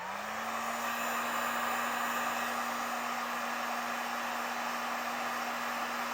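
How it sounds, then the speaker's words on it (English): A heat gun blows with a steady loud whooshing hiss and a constant hum as it shrinks heat-shrink tubing on vehicle trailer wiring. It sounds close and continuous, with no talking. "just grab a heat gun and evenly apply heat to the end"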